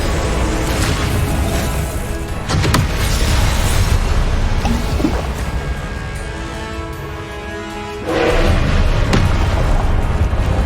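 Repeated spell explosions in Hogwarts Legacy, with Confringo fire-bolt blasts bursting over a dense, continuous combat din; loud booms land around 2.5 s and again near 8 s, with no pauses between them.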